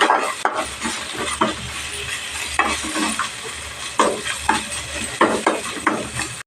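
Ginger-garlic paste frying in a pan for an egg curry, with a steady sizzle and repeated scraping and stirring of a spoon against the pan throughout.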